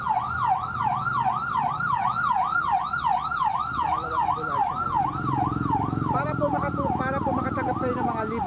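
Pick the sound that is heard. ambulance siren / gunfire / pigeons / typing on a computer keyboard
ambulance siren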